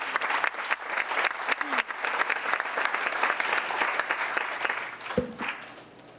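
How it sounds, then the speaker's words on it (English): Big round of applause from an audience in council chambers at a town council meeting, dense steady clapping sustained for several seconds before tapering off near the end. "One more big round of applause for Casey Benson"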